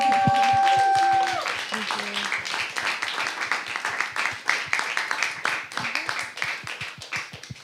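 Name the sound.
audience applauding Alex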